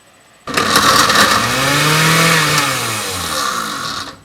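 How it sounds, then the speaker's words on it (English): A blender making gazpacho whirs loudly and steadily after a sudden start, its motor pitch sliding up and down as the vegetables churn, then cutting off. "I'm going to start putting these in the blender."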